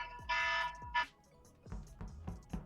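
Short bursts of a harsh buzzing alarm, two blasts in the first second, loud and close, followed by a few low thumps.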